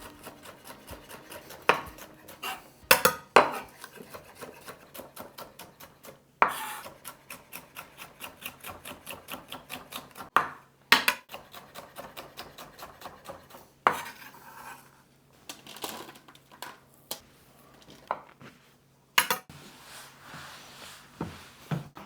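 A knife on a cutting board slicing vegetables into thin julienne strips, with sharp close knocks and runs of quick chopping taps, some louder strikes, in a quiet kitchen with no talk.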